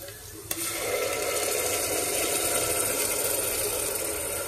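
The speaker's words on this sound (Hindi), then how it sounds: "अब मसाला, टमाटर का मसाला अच्छे तरीके से भून रहा है" Tomato masala with cardamom, ginger, cumin and tomato puree sizzles while roasting in a pressure cooker, a steady close frying hiss that starts after a brief clank and continues evenly with stirring.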